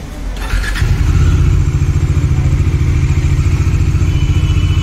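A Bajaj Dominar 400 BS6 motorcycle starts with a short starter whir, then settles into a loud, close, steady thumping idle with no voices.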